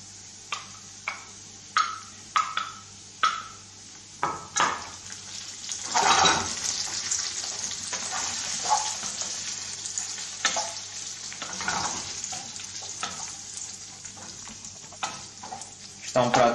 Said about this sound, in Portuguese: vamos desligar o lume e vamos adicionar as lascas do bacalhau